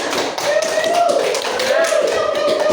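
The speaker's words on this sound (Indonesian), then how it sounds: "Kasih tepuk tangan teman-teman" Classmates in a classroom clap their hands in a short burst of taps while a voice carries on over the clapping.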